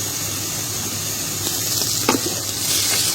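A tablespoon of ginger-garlic paste hits reddened onions frying in oil for a pabda fish and ridge gourd curry, giving a continuous moderate sizzle with a brief louder burst midway.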